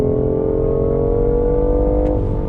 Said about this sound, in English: you are getting this throaty little sound from the combined efforts of the electric motors and that 3-cylinder engine that's right behind us